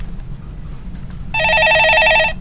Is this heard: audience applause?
no